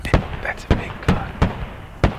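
A big gun firing in the video game Squad: five sharp, booming shots spaced fairly evenly about half a second apart, each one loud and close with a quick decay.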